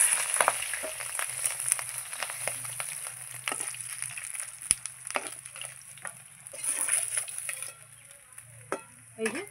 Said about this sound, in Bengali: কাতলা মাছের মাথাগুলো ভালো করে ভেজে নেব